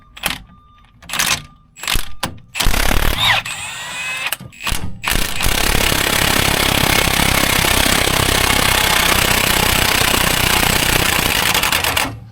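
A power tool rattles out the 17 mm cradle bolts on a 2011 Mazda 3 during a hub bearing job, first in short separate bursts, then in one long, loud, steady run.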